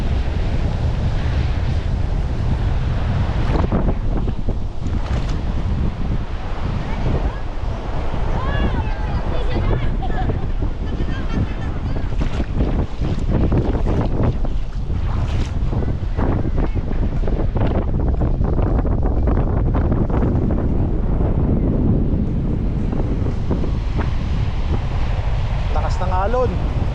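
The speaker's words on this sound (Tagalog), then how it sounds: "Lakas ng alon." Strong sea waves surge and crash continuously with heavy wind buffeting the microphone, while people talk in Filipino over the roar.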